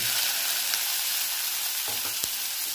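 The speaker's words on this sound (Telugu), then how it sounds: "వేసుకొని కొంచెం జీలకర్ర చట్పట్లాడాలి" Cumin seeds sizzle and splutter in hot oil in a pan, a loud, steady hiss of frying with a few sharp pops near the end, close and uninterrupted by any voice.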